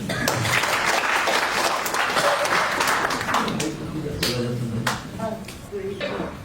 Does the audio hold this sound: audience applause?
yes